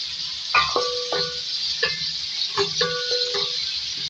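Two medium onions frying in oil in a deep pot, a steady hiss of sizzling oil with sharp squeaky scrapes and tonal rings of a metal spoon stirring against the pot, close by, no voices.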